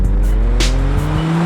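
A car accelerating hard during a tense chase, engine roaring loud and close with rising, shifting pitch and bursts of tire noise, no voices over it.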